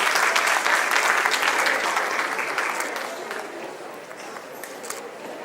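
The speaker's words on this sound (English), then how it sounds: "give them a big round of applause" An indoor audience at an army welfare education society excellence awards ceremony claps in a dense, steady wave that gradually tapers off over several seconds.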